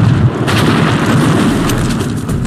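Very large underwater explosion equal to about five tons of TNT, involving a Russian nuclear submarine, rendered as a deep, sustained rumbling boom that fills the whole stretch with no talking.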